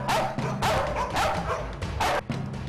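Several dogs bark repeatedly at a military working dog training center where Doberman pinschers are bred as guard dogs, with loud, overlapping bursts and yips close by, no talking.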